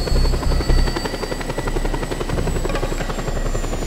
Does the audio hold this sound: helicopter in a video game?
yes